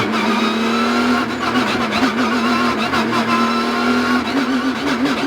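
Onboard a Porsche Carrera Cup race car at Assen, the engine drones loudly and climbs under throttle at a restart. A steady, wavering tonal roar fills the cabin, with a commentator talking over it.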